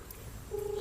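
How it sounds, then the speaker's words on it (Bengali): A phone call's ringback tone, a steady single-pitch ring that sets in partway through and holds, heard over a low hum with no talking. "তো ভাই শুনতেই পাচ্ছ রিং হচ্ছে এখন।"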